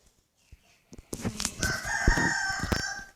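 A rooster crows nearby, a loud drawn-out call that follows a few soft knocks and rings for about two seconds.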